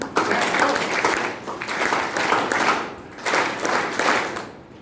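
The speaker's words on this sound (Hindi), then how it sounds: "तालियों से अभिनंदन करें" Applause from a crowd at a Samata Sainik Dal foundation day ceremony, in several swelling waves with brief dips between them, filling the room at moderate loudness.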